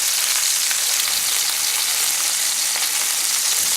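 Homemade Italian sausage patties fry in a greasy pan, giving a loud, steady sizzle and crackle that holds evenly throughout, with no voices over it.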